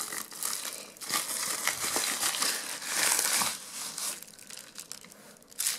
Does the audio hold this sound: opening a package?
yes